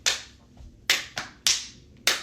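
Five sharp, separate hand claps land at an uneven dance-routine pace, close and crisp, with quiet gaps between them and no talking.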